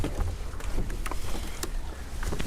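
A boat on backwater near Malvan, with continuous rushing water and wind buffeting the microphone, plus occasional small knocks, steady and close throughout.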